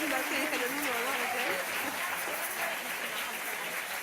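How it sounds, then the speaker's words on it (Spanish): Steady applause from a theatre audience at a children's stage show, dense and sustained throughout, with voices talking over the clapping early on. "Un aplauso para los voluntarios."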